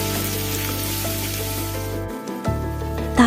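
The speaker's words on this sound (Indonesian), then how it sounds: "Suara minyak panas bertemu dengan kedelai yang telah difermentasi." Fermented soybean tempeh fries in hot oil with a close, steady, hissing sizzle. The sizzle briefly drops out partway through, then resumes, with no voices.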